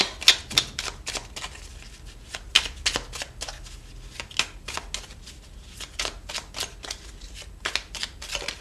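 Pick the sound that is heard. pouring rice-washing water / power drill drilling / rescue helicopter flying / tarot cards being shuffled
tarot cards being shuffled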